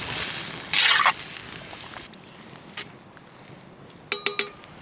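Chili gets stirred in a 10-inch Dutch oven over a campfire in cold weather, with a short scraping rush, a light sizzle and a few close metallic clinks of the spoon against the pot.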